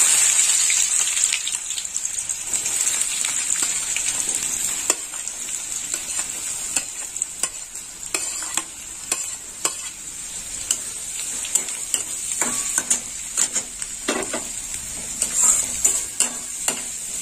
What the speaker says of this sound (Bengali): এবার পেঁয়াজগুলো দিয়ে দিলাম তেলে।